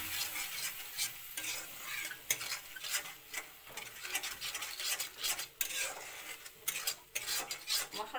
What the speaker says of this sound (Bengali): মশলাটা ভালো করে ভাজা ভাজা হইব